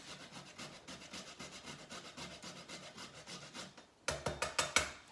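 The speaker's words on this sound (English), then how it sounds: "I think I need a little bit more nutmeg, so I'm gonna grate some more of it" Whole nutmeg scraped against a grater in quick rhythmic strokes, a steady run of soft rasps that turns into several louder, sharper strokes near the end, with no talk.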